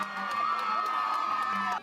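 A crowd cheers and whoops for performers at a community Amateur Hour talent show on stage, a steady, loud, close roar of voices with some higher shouts, sustained for nearly two seconds before cutting off.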